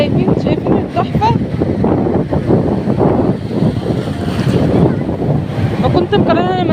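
Sea waves wash loudly onto a beach in a constant roar, mixed with wind buffeting the microphone, while excited voices talk and call out over the surf.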